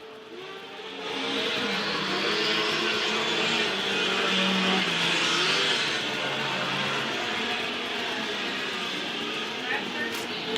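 Race cars roar around an oval track after turn four in a steady, sustained engine drone that builds after the first second, with a commentator talking over it.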